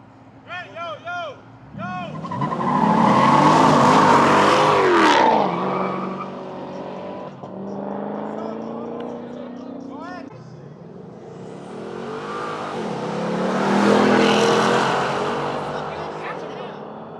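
Dodge Chargers and Chryslers race and drift at a car meet, engines swelling loud as one passes close, fading, then a second roaring pass rising near the end, with people talking and shouting over it.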